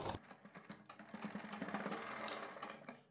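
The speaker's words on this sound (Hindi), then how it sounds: "तो देखिए यहाँ पर हमने अपनी सिलाई लगा दी है" A sewing machine runs steadily, stitching a seam on a sleeve for a kurti or blouse, with a fast even mechanical whir and clatter, close and moderately loud with no talking.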